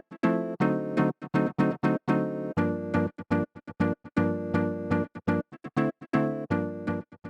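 Chords from an Animal Crossing song play on a MIDI rhythm guitar in short, muted strums, sounding as choppy rhythmic stabs with brief silences between them.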